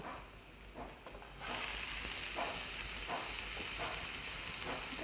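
Chopped papaya dropped into a hot pan with coconut and green chillies for a Kerala-style thoran, frying with a steady soft sizzle, faint and continuous, broken by light scraping stirs at intervals.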